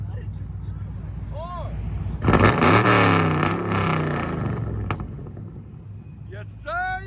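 A car engine fitted with long tube headers barks into a loud rev about two seconds in, holds a throaty roar, then eases off, while voices talk and shout nearby.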